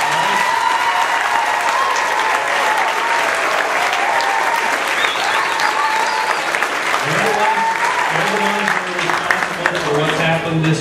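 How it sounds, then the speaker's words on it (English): Audience applause at a closing program on the final day of a church Vacation Bible School, steady and full for about eleven seconds, with some voices and cheers mixed into the clapping. "Let's give them a big round of applause."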